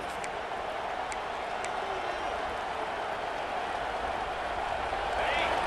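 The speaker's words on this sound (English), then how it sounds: "Listen to this crowd just shaking the girders of this place, trying to help their defense." Big stadium crowd roaring in a college football video game during a Georgia defensive stand, a steady loud wash of cheering and noise that swells slightly near the end.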